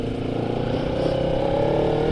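Kawasaki Ninja 300 motorcycle engine on a winter commute, a steady loud droning note rising slightly in pitch as it revs, heard close without talking.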